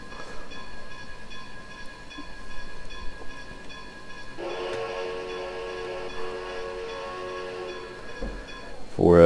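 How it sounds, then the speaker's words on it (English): A PRR K4 4-6-2 Pacific steam locomotive whistle in Train Simulator Classic sounds as a long, steady chime-like tone for several seconds, loud over a background of engine hiss and rumble. "For those of you that remember the Clear Creek DLC and are curious as to where that whistle came from, there it is"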